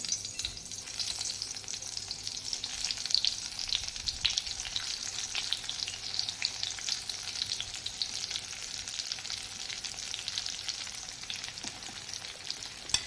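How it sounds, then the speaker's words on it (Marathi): A continuous bright sizzle of eggplants frying in hot oil in a wok, steady and close, with faint crackles and no voices. "कढईत तेल तापत ठेवलेलं आहे आता आपण त्यात ही वांगी सोडून घेऊया"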